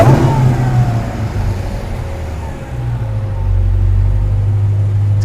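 Supercharged Petty's Garage car engine revs at close range, a steady low rumble holding throughout with a faint supercharger whine rising and falling above it, no voices.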